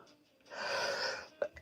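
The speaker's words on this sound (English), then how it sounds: "I got to sneeze." A drawn-out, breathy intake of air leads into a short, sharp sneeze, close and fairly loud.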